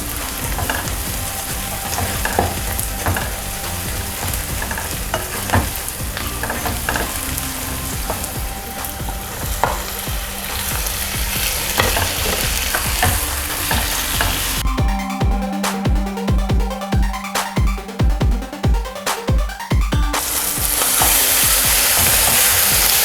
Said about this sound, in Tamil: இப்போ பாருங்கள், தக்காளி கொஞ்சம் நல்லா வதங்கிடுச்சு.